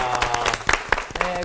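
Studio audience claps together after a call to thank God during a Bible lecture on the Book of Numbers, the applause brief and uneven with a few louder claps standing out.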